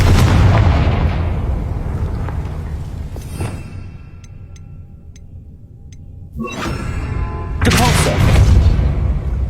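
Booming Confringo blasting-spell explosions in Hogwarts Legacy, heavy loud blasts with rumbling decay, one burst early, a quieter lull with small magical chimes, then another powerful explosion near the end.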